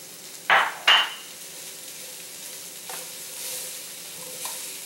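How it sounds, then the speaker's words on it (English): Dried fenugreek leaves being stirred into sizzling potatoes for aloo methi, two sharp scraping stirs near the start followed by a soft steady frying hiss and a few faint light scrapes. "And now I'm going to be adding the dried fenugreek leaves."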